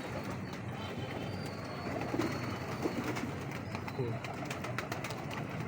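Pigeons coo softly amid a dense bed of rustling and fluttering from many birds at a loft in Lahore, low and continuous, with a voice faintly speaking over the noise.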